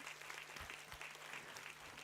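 Applause at a university convocation ceremony, a dense, steady patter of many hands clapping throughout, faint and distant.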